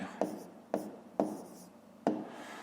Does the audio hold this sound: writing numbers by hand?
yes